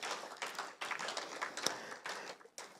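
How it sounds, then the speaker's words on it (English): Applause at a community engagement town hall, a short burst of many hands clapping from a modest crowd, fairly close and steady, fading briefly before rising again. "Can we give a hands of applause?"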